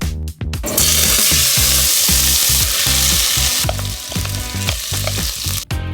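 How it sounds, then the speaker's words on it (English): Lao pepper herb paste dropped into hot oil in a pot, erupting into a loud, dense, crackling sizzle that stays strong throughout, with a low rhythmic hum and occasional stirring. "Once your oil is hot, go ahead and add your pepper herb paste."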